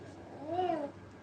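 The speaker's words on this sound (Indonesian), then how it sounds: "Anak kucing ngeong." A single short kitten meow, rising then falling in pitch, fairly faint over a murmur of background noise.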